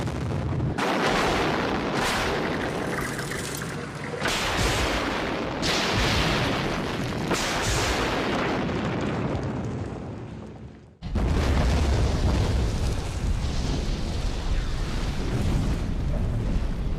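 Explosive charges blow down a huge concrete tower in a continuous, roaring, rumbling blast. A brief drop near the end is followed by another heavy, sustained roar of collapse and debris.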